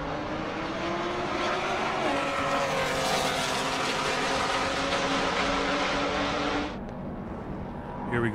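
A Subaru WRX STI (VA) race car driving on the Circuit of the Americas track during a super lap battle: a sustained engine roar with shifting pitch that drops away near the end, under commentary.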